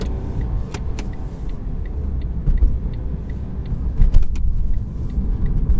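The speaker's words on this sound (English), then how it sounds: "Now we're going to let off the accelerator, upshift, just like everything else." Car engine rumbling steadily from inside the cabin as the driver eases off the accelerator and shifts up, with a few light clicks and small swells in the low drone.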